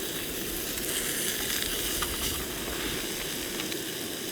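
Prosciutto sizzling in a dry, unoiled pan at a Blue Mountains camp in Australia, a steady close crackle and hiss with no talk over it.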